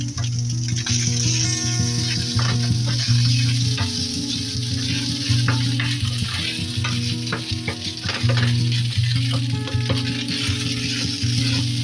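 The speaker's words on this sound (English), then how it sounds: "first things first, I like to just dump the pulled pork in there. And then kind of give it a stir." Pulled pork being stirred in a hot pan, with a loud, steady sizzle and frying crackle running throughout and repeated scraping stir strokes, close and alone with no talk.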